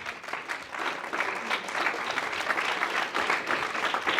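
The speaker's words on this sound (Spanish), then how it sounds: "Dele un aplauso al Señor." A church congregation applauding during a Spanish-language sermon, a dense, steady round of many hands clapping in a large room that stays loud and continuous throughout.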